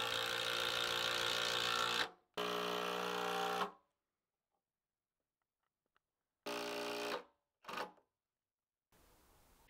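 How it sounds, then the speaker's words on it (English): A power drill drives a 4-inch screw into the wooden bottom and side of a mini elevated raised bed, two loud sustained whirring bursts followed by shorter spurts separated by silence. "we're going to attach the bottom of the bed and the side of the bed with the 4-inch screw"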